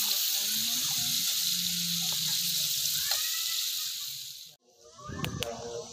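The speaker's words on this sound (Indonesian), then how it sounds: "kita goreng" Steady, bright sizzle of food frying in hot oil outdoors near the sea, holding level for several seconds before cutting off, then a short clatter.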